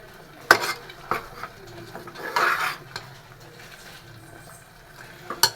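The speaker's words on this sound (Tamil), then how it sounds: "நம்ம லைட்டாக தானே வெங்காயம் தக்காளிலாம் வதக்கணும்" Onions and tomatoes for channa masala are sautéed in a pan: a spatula scrapes and clinks against the metal in a few separate strokes, with a faint sizzle underneath, close by and moderately loud.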